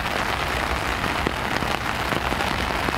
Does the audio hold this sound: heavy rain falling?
yes